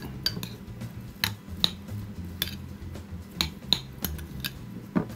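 A utensil mixes chocolate batter for an inverted two-chocolate coulant in a bowl, making irregular clinks and scrapes against the bowl with a soft background hum. Close and fairly quiet, with no talking.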